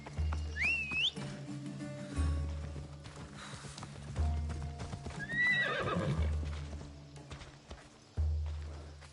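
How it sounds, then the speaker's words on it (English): A horse in Assassin's Creed Odyssey gallops with steady, rhythmic clip-clop hoofbeats, neighing and whinnying loudly at the start and again partway through. "This will be faster on horseback."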